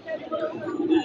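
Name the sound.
pigeons cooing at Mirpur pigeon market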